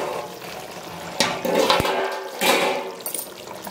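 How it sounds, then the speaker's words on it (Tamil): Rice poured into a pot of rolling boiling water for chicken white biryani, a watery rush and splash swelling twice in quick bursts over a steady bubbling background, close and moderately loud with no talk. "இப்போ அரிசி சேர்த்துடலாம்."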